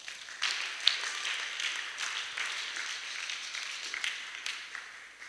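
A church congregation applauds during a French-language sermon, a soft, fairly distant spread of many hands clapping that carries on steadily for several seconds without talk.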